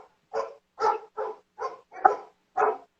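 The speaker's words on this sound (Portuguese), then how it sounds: "não pode falar, que ele vai latir" Dog barking indoors, six separate barks spaced about half a second apart, moderately close and clear, with no talk over them.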